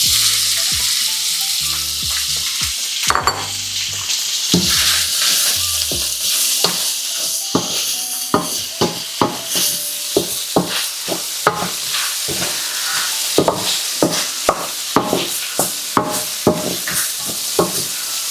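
Shredded chicken thigh sizzles steadily in a hot pan while a utensil scrapes and clacks against it in a quickening series of sharp strikes, close and loud with no talking.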